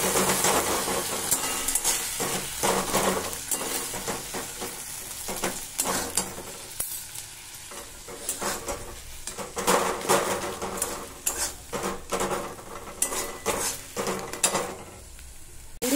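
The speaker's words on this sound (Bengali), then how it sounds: "1 চামচ মতো আদা রসুনের পেস্ট দিয়ে দিলাম এতে। এবার এটাকে আমি একটুখানি ভাজবো" A spoonful of ginger garlic paste fries in a pan for moglai paratha filling, giving a soft, steady sizzle broken by repeated clinks and scrapes of a spoon stirring against metal. No one talks.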